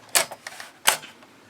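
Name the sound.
typing on an Apple IIc computer keyboard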